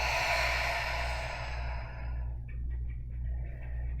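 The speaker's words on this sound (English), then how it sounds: "take one more deep breath in through your nose. And an open mouth exhale," A long, open-mouthed exhale at the end of a vinyasa yoga class, a breathy sigh that fades out over a low steady hum.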